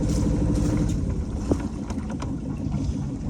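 An outboard engine on a J88 sailboat idles to charge the battery, a steady low rumbling drone close to the microphone with some wind noise over it.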